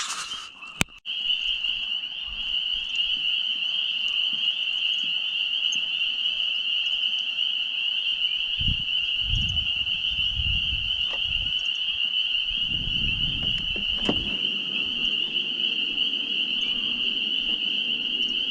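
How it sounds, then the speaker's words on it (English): Spring peeper frogs in the western North Carolina mountains form a dense, steady, high-pitched chorus that runs nonstop. A few low rumbles and thumps sit beneath it in the second half. "Y'all listen to these damn peepers."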